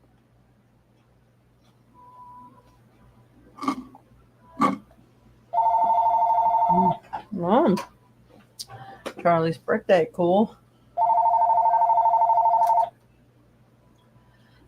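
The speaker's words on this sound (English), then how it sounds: "That phone number's been trying to call me forever." Two long, loud bursts of a steady electronic telephone ring from an incoming spam call sound alone between stretches of live talk, separated by several seconds of speech.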